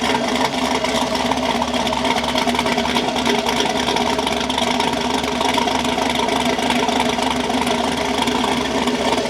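A 2000 Chevrolet Silverado with a swapped-in LS3 V8 idles steadily, a dense, even rumble holding constant throughout with no voices.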